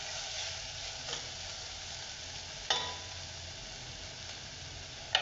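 Moth beans and washed rice being sautéed in a pan for matki bhaat: steady, close sizzling and frying hiss with occasional stirring scrapes and a few sharp clinks of the spoon against the pan.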